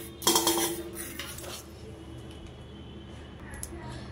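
A whisk clinks and scrapes briskly against a bowl as it mixes custard ice cream mixture, a dense burst of metallic chatter near the start that fades to quiet near-silence.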